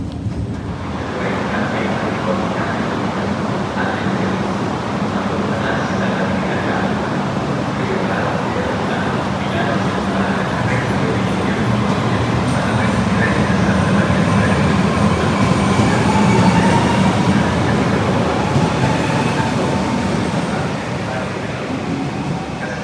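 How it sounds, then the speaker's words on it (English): The Heritage Tram Line 7 runs through Turin, a loud, steady rolling rumble of wheels on rails with rattling and traffic noise across the whole stretch and occasional voices mixed in. "Here I am now, boarding the Heritage Tram Line 7 to head from Questura"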